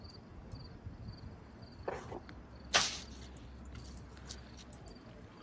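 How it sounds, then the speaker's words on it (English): A crickets-chirping sound effect plays as a faint, steady run of rapid high chirps, interrupted by a couple of brief louder noises. "Crickets."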